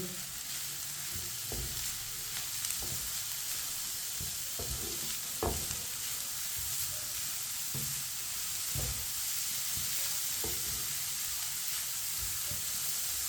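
Grated carrot being mixed with another ingredient in a bowl for a chicken dish, a soft continuous scraping and rustling texture with occasional light knocks, steady and fairly quiet throughout.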